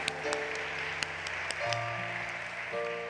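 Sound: church congregation applauding

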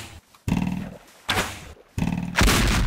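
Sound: gunshot from Minecraft Needs Moar Gun mod, video game

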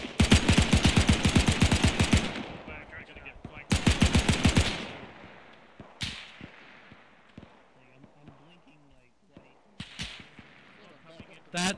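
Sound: G43 rifle gunfire in a video game

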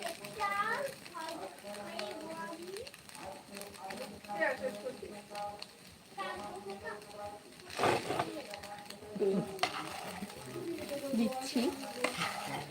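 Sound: stirring and frying vegetable noodles in a nonstick pan

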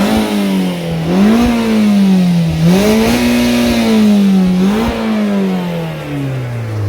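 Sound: Mazda MX-5 naturally aspirated engine revving to high rpm

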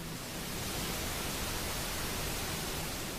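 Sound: pink noise

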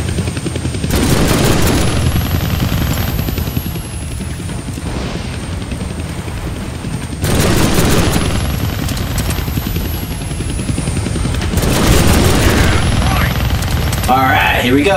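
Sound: helicopter in the Deadpool video game

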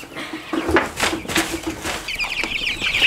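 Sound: chickens clucking while being moved from a brooder

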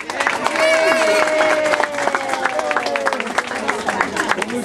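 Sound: children and audience applauding at holiday party

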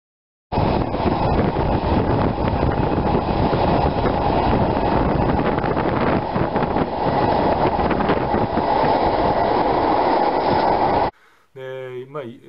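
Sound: sleeper train running

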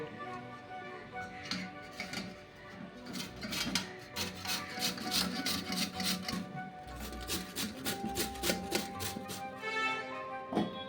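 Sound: grating medium-sized potatoes for aloo pakora

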